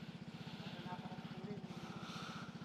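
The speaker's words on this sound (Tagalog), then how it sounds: "Pumuputok-putok pa, may popcorn. May popcorn yung motor niya." A Vespa scooter idles with a steady low pulsing engine beat, continuous and moderately loud, with no distinct exhaust pops standing out.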